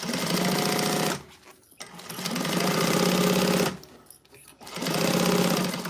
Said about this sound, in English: I'm going to go ahead and sew across my bottom all the way